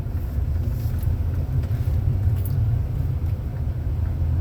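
A pickup truck driving, heard from inside the cab: a steady, low engine and road rumble holds throughout with light rattles, and there is no talking.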